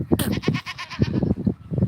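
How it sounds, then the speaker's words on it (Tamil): Goats bleating in a farm pen, including a mother that has just given birth, several overlapping cries in quick succession, loud and close. "நான் இந்த பக்கம் வந்தோடனே ஆடு பூரா கத்துது"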